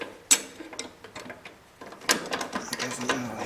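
Bolts are worked loose on the auger of a Toro 521 snowblower. There are sharp metallic clicks and ratcheting taps, then a denser run of quick clattering turns, close and fairly quiet, with no voices.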